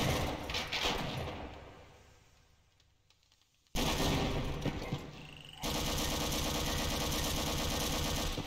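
Submachine gun fire in a Half-Life-style Doom mod: a loud burst of rapid shots, a fading lull, then renewed sustained automatic fire that holds steady and close to the end.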